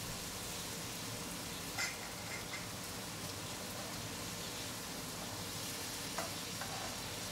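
Paneer cubes frying in oil in a pan for paneer tikka masala, a continuous dense crackling sizzle heard close and alone, with a few faint spatters and taps.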